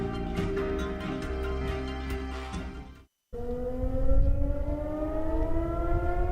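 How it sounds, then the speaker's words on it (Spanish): Air raid siren wailing loudly with sustained rising and falling tones, broken by a brief moment of silence before the sound resumes, with no voices. "Las sirenas antiaéreas son parte de la vida cotidiana de DW en español."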